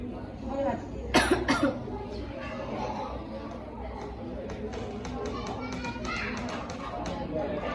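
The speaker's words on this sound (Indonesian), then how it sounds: "untuk latihan batuk efektifnya sudah dilakukan ya Ibu" Several sharp coughs in a quick cluster during an effective coughing exercise in a guided breathing session, followed by quieter room noise and soft background chatter.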